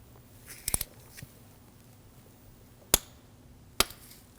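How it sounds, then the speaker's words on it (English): Sharp, isolated clicks from a torque wrench tightening a spark plug on a 2001-2009 Volvo S60: a quick cluster of snaps near the start, then two crisp single clicks spaced apart, close and clear against a quiet background. "Now we're going to torque this to 22 foot-pounds."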